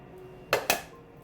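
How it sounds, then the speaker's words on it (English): Two quick utensil knocks against a soup pot while chicken soup is stirred after adding organic lemon, a pair of close clinks in an otherwise quiet kitchen. "Organic lemon, give it a good little mix there."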